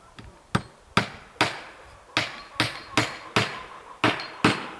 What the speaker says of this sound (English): This is a softer wood, so I'm going to hammer it right in.